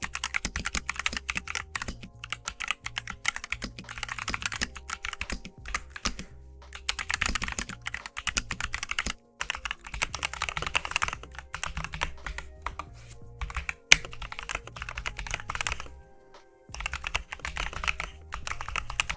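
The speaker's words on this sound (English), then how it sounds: "Now we have a typing test coming up." Typing on NuPhy Halo 96 and Halo 75 mechanical keyboards, rapid continuous clacky keystrokes with a few brief pauses, close and clear, no talk.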